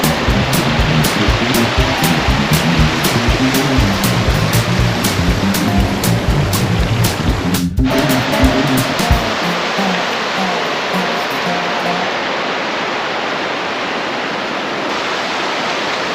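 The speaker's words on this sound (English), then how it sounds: "It's rushing water." A river rushes loudly near its bank on the Devon–Cornwall border in southwest England, a dense, roaring wash of water. Around the midpoint it drops sharply to a much quieter, distant flow, with no voices.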